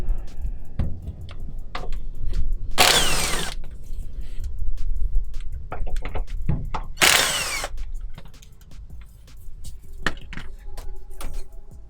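A power tool removes two 12 mm bolts holding the e-brake cable on a 2014 Hyundai Veloster Turbo, with two short loud whirring bursts between clicks and ratcheting taps, close by.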